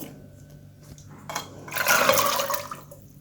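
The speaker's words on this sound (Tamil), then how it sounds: "தண்ணி கொஞ்சம் ஊற்றி ஒரு 1/2 டம்ளர் அளவு தண்ணி ஊற்றுங்க" Water pours into a metal pressure cooker for about a second and a half, a splashing gush that builds, peaks, and trails off, with no talking.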